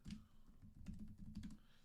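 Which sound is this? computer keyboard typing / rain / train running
computer keyboard typing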